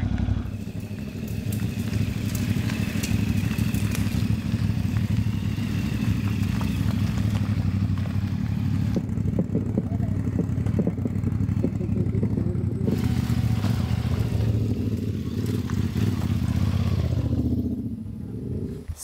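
Motorcycles idling steadily nearby beside a river, a continuous low engine rumble with occasional revs and clatter throughout.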